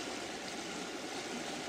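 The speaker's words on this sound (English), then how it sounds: "Here we can look up the Red Deer River as it comes down from the Sundre area." The Red Deer River, flowing down from the Sundre area, gives a steady broadband rush of moving water, even and continuous throughout with no voices.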